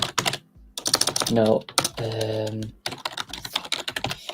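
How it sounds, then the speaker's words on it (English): Hard, rapid typing on a computer keyboard during a football quiz podcast, with clustered key strikes at the start and end and voices talking and laughing over the middle. "that bloody keyboard. That poor keyboard."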